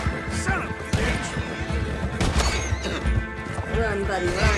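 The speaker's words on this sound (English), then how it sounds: "Stop shooting my freaking horse." A horse in the Red Dead Redemption video game neighs and whinnies amid clip-clopping hooves and sharp crashes, with someone talking loudly over the gameplay throughout.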